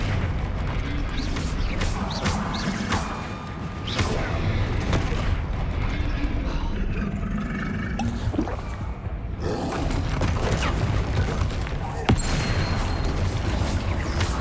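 A Confringo blasting spell goes off in the video game Hogwarts Legacy, with loud booming bursts and roaring blasts over dense, continuous game noise; one break in the middle briefly thins the sound before the rumbling resumes.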